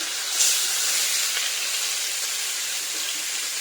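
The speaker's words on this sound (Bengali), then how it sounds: "চলো এবার মাছগুলো এত করে ভেজে নেব" Steady hiss and sizzle of rohu fish pieces frying in hot oil, continuous and fairly loud, with no voices.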